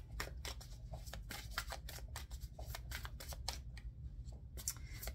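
A tarot deck is shuffled and cards drawn, with quick close riffles and flicks in irregular bursts of papery snaps, fairly quiet, no talk.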